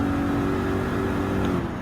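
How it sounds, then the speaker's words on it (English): Several Mazda Atenza Gr.4 race cars in Gran Turismo 7 during a Nations Cup online race, engines droning steadily and loudly in a continuous high hum with no pauses. "Now we have another 2 Mazda Atenza Gr.4s in a different livery is coming in to be on the scene"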